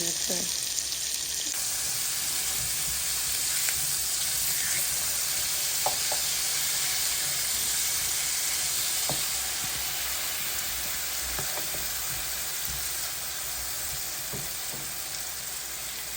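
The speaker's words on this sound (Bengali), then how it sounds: "মাছগুলোকে আমি সুন্দরভাবে উল্টা নিছি এই পিঠটা একটু ভাজা হলে" Hilsa fish pieces frying in a pan for a red curry, a steady broad sizzle running throughout with occasional small pops and spatter crackles, close and fairly loud, no talking.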